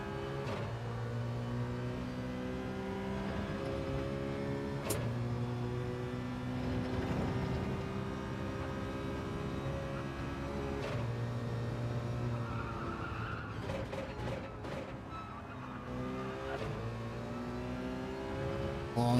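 Race car engines in the Gran Turismo 7 video game, including a futuristic Citroen, drone and whine steadily with shifting gears and tire squeal, under continuous commentary.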